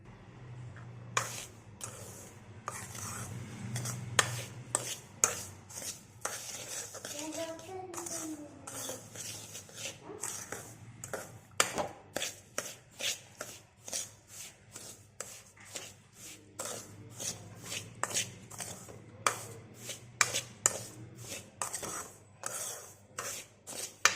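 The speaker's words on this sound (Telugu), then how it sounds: "ఇప్పుడు షుగర్ వేసుకుందాం ఇప్పుడు కలుపుదాం" Semolina and sugar being mixed by hand for rava laddu, producing a long run of soft rubbing and scraping strokes in a quiet kitchen, close and fairly faint, without speech.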